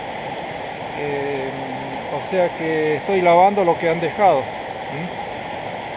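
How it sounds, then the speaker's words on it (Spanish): A large, violent, fast-flowing river rushes steadily in the background, a continuous wash of water noise heard beneath someone speaking close by. "Sí, es un río violento, un río grande"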